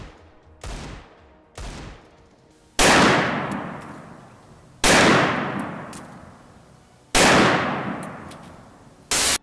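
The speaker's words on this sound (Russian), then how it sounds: "Я хочу стрелять с Дигла и чувствовать мощь и силу 50-го калибра." Desert Eagle pistol shots from Counter-Strike: Global Offensive, with two lighter, quieter reports followed by three heavy, loud booms spaced about two seconds apart, each trailing off in a long decaying echo, with no talking.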